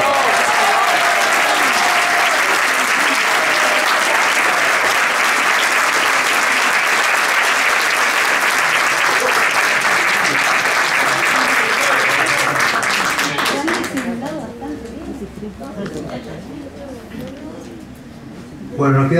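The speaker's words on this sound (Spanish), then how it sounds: "Ya le gustaron los aplausos" A concert audience applauds loudly and continuously for about thirteen seconds, then the clapping thins out and fades to a few scattered claps before a brief rise at the end.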